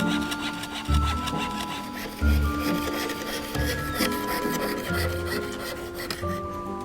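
Hand sawing during a repair-shop restoration job, with steady back-and-forth rasping strokes in a regular rhythm, close and fairly loud, with no talking.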